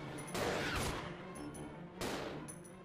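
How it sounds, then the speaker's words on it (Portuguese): Two bursts of gunfire in the video game Resident Evil 0, a sharp volley near the start and another about a second and a half later, moderately loud and close. "Dá um tiro aí, Rebeca."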